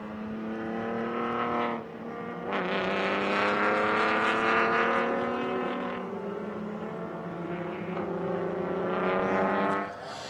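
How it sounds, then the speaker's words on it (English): A field of race cars, BMW and Nissan among them, rolls around the Utah Motorsports Campus circuit ahead of a standing start, engines droning and revving in overlapping rising and falling waves at moderate distance for about ten seconds. "The field coming around to get set and line up for the standing start"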